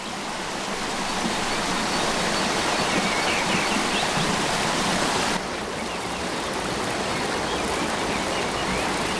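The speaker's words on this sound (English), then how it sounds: "the driver ants arrive at the first waterfall that separates them from the humid plain" A waterfall roars steadily across the whole stretch, a dense, continuous rush of falling water that rises slightly early on and stays loud and unbroken, with no voices.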